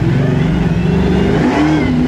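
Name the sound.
Bigfoot monster truck accelerating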